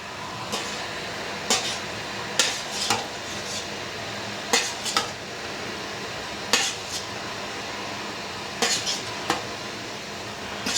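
Mushrooms cooking down in a pot on the stove before pressure canning, with a steady sizzle under sharp, irregular clinks of a utensil stirring against the pot.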